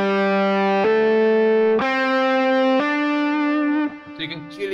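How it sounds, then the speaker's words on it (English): An electric guitar with effects plays picked notes followed by hammered notes, all in time, stepping up through four long, ringing sustained tones, each clearly separated, before the sound trails off. "option one is where you play both the picked note and the hammered note in time."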